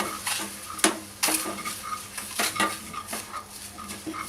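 A spoon knocks and scrapes around a bowl while milk is mixed into flour for an eggless cake made without an oven, giving irregular clinks and soft scrapes up close, with no one talking.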